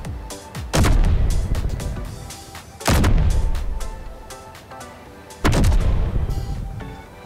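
Gunfire aimed at an enemy gun turret in Space Engineers, three heavy booming shots spaced about two seconds apart, each a sharp blast that decays into a rumbling tail.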